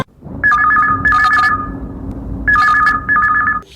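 A telephone rings in two double-trill bursts with a pause between them, loud and close, over a low steady hum.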